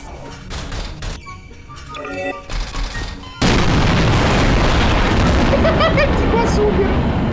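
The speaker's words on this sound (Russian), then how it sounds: "Сейчас взорву." In a Garry's Mod game, voices and scattered game noises come first, then a huge bomb blast erupts midway into a loud, sustained roaring rumble that holds to the end.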